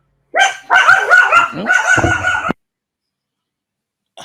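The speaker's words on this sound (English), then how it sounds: "Someone was at my front door. And my dog is going crazy." A dog inside a house barks frantically at someone at the front door, a dense burst of loud, excited yelps and barks lasting about two seconds before going quiet; a brief exclamation is heard.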